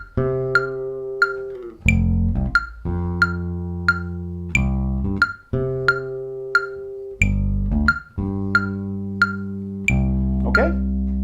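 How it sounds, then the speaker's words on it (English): A bass line plays a funky syncopated rhythm, with punchy plucked low notes in short repeating phrases and a bright click on each attack, heard alone and loud with no talking. "Now you'll often hear it moving around with different notes in there through a bass line."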